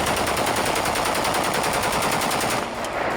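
Rebel fighters firing guns inside the Syrian presidential palace compound: loud, sustained automatic gunfire in rapid bursts, close and continuous throughout, with shouting crowd noise blended in.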